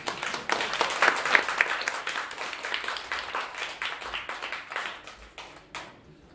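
Lively applause from a concert audience after a saxophone quartet performance, close, dense clapping that builds and then gradually thins out toward the end.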